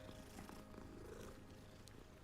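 A cat in the video game Hogwarts Legacy purrs softly in a low, steady, rhythmic rumble that continues faintly and evenly throughout.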